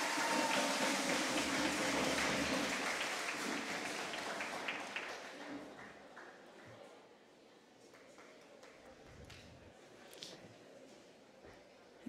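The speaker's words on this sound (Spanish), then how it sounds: "Un fuerte aplauso para Natalia." Applause from the audience at a regional oratory contest final in Chiriquí, loud and dense at first, then thinning into scattered claps and fading as the clapping dies away.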